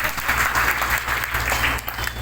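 Audience applause at a Brahma Kumaris spiritual talk: a steady, dense patter of many hands clapping together for about two seconds, fairly loud, with no speech over it.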